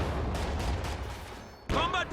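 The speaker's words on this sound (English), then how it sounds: "Grenades exchanged here." Grenade blasts in the WWII strategy game Company of Heroes 2 during a 1v1 match: a low rumbling battle bed with several dull booms, then one sharper, louder burst near the end, while a commentator talks over it.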